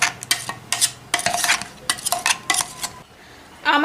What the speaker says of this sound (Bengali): এখন এটাকে ভালো করে আমি মিশিয়ে নিচ্ছি।